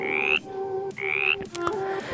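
Frog croaking in two loud rising calls with a steady background hum, then a shorter buzzy call, close and clear with no voices.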